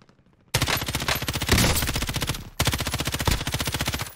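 Video game gunfire crackles in sustained automatic bursts, a rapid, loud, evenly spaced rattle of shots running in two long strings separated by a short break, with no voices over it.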